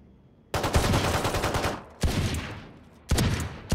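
Rapid automatic gunfire in a competitive shooter video game, three loud sustained bursts separated by short pauses, close and dominant with no talk over it.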